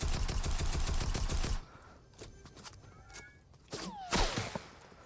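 Gunfire rings out in Fortnite Reload, with rapid bursts of shots at first, then quieter scattered shots and footsteps amid game sounds.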